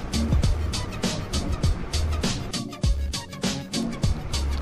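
A car moving slowly through the city centre of Dhanbad, with an uneven rumble of engine and road noise, repeated bumps and thuds, and faint voices in the background.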